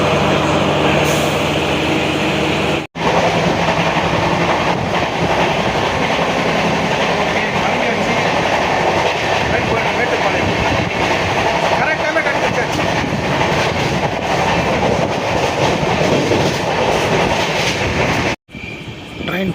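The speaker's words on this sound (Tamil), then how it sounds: "ட்ரெயின் போயினே இருக்குது." A train from Chennai to Mettupalayam rumbles steadily along the tracks at night with a continuous clattering roar, close and loud, briefly cut off twice.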